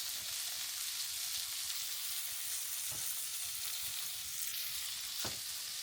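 Salmon sautéing in a pan with a brown sugar and bourbon sauce aboard a boat, a steady close frying sizzle running throughout with a couple of brief stir or pan clicks.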